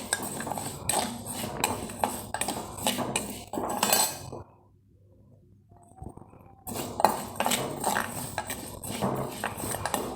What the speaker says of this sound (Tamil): வெந்தயத்தையும் ஜீரகத்தையும் நல்லா வறுத்து எடுத்துக்கணும்.